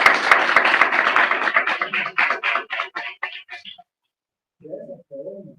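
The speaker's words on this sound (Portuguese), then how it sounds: "Aplausos aqui para a Paula." An audience claps for a few seconds, dense applause at first that thins into scattered individual claps and fades out, followed by a short burst of speech.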